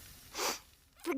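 A single short sneeze, close and fairly loud, with a quick sniff-like burst just after it, heard alone without talk.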